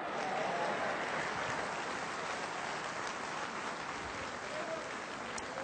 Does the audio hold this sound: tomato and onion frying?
no